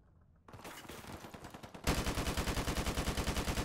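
Automatic gunfire in Modern Warfare Remastered, a short burst that opens into a long, loud, rapid stream of shots in a tight rhythm, close and dominant.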